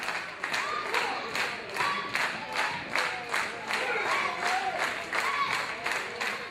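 A wrestling crowd at a three-man match cheers and claps continuously, a dense roar of voices with rhythmic clapping bursts throughout, loud and sustained.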